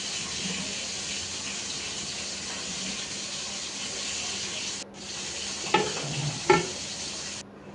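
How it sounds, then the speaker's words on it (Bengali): Spiced potato curry steadily sizzling and bubbling in a pan after water is poured into the gravy, a continuous close hiss with a couple of clinks from a utensil near the end. "কষিয়ে এখন ঝোলে পানি দিয়ে দিলাম"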